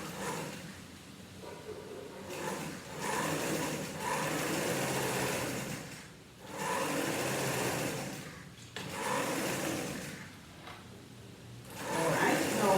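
A sewing machine stitches a straight skirt seam in several sustained runs, its rapid whirring pausing briefly between bursts, close and clear.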